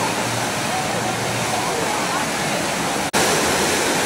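Creek water pours steadily into a small pool at a water park, a loud continuous rushing wash with no pauses, close by and alone, briefly cutting out for an instant near the end.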